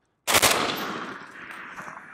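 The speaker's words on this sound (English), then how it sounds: "And this, of course, is a machine gun" Machine gun firing M80 ball rounds at body armor on an outdoor range, heard as one sharp, loud report or a very short burst at the start, then ringing and decaying for about two seconds.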